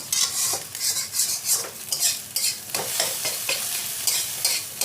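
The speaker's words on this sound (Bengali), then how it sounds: "এবার এটাকে একটু, ডিমটাকে একটু ভালো করে ফ্রাই করব।" Egg frying in a pan for egg chicken pasta, with a steady hiss and sizzle broken by repeated scraping and stirring strokes of a utensil against the pan, close and continuous with no talking.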